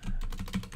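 A short, quick burst of keystrokes as a pip install command is typed on a computer keyboard, close up and crisp, with no voices.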